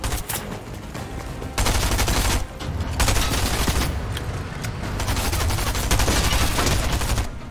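Heavy gunfire and booming blasts in Fortnite, dense and loud, filling nearly the whole stretch with brief breaks, with a tank in play amid the battle.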